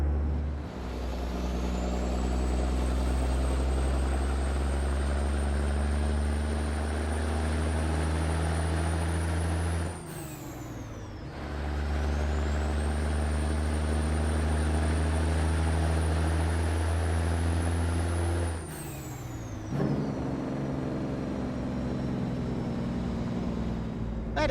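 A Peterbilt truck engine in American Truck Simulator drones loud and close, a deep steady rumble with a rising whine that builds twice, each time breaking off into a brief drop as gears shift.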